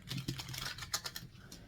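A tarot card deck being shuffled, quick crisp riffling and tapping of cards in a short close burst, quiet and alone.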